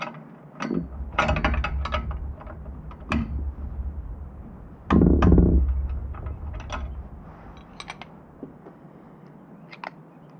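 A torque wrench ratchets as it tightens 19 millimeter bolts on truck grab handles, giving bursts of close clicking with a louder, heavier stretch of clicks midway, then sparse single clicks trailing off.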